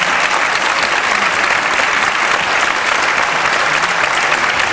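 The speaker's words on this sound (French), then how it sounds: "on pourrait donner une bonne main d'applaudissement à Micheline" A church congregation at an Easter vigil applauds, producing a loud, thick and unbroken roar of clapping that holds steady throughout with no pauses.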